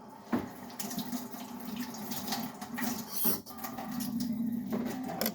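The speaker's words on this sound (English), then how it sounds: "And wash my hands real quick." Hands washed under a running kitchen tap, a steady close splash and patter of water with squeaky rubbing and brief clatters, no talk.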